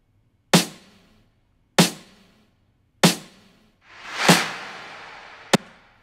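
Dry 808 snares from a Logic Pro drum kit hit three times at an even pace, then a longer swelling snare and a final short crack follow, all sharp, close and without talk.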